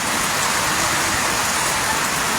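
Heavy typhoon rain pours onto the roof of a house, heard from the third-floor attic as a loud, dense and continuous hiss of drumming water.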